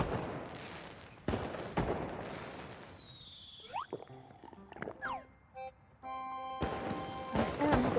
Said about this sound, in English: Lovely fireworks.